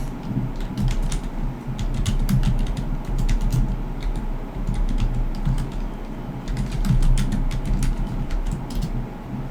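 A computer keyboard is typed on steadily, with irregular clusters of light clicking keystrokes over a low background hum, close and fairly quiet.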